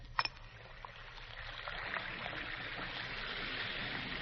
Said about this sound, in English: we take 2 Alka-Seltzer tablets from the package and drop them into a glass of water